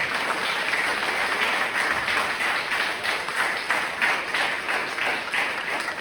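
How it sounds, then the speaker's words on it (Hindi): An audience claps loudly for a student performance of a play at an Indian stage event, a dense, steady burst of applause lasting several seconds with no talk over it. "एक बार जोर से ताली बजाएं"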